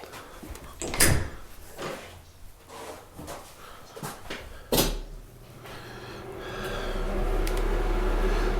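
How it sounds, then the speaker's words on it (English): Loud knocks from a room in a hallway, with several sharp, separate impacts, two of them especially strong, followed by a rising low rumbling background. "That was a huge knock."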